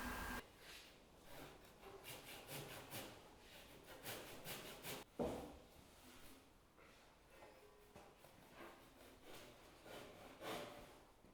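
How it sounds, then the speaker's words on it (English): Japanese pull saws trim the shoulders of oak tenons for a timber frame joint, giving a steady run of short rasping strokes close by, with a brief pause and a sharper knock near the middle. "We're now making fine adjustments to the shoulders of the tenons with Japanese pull saws."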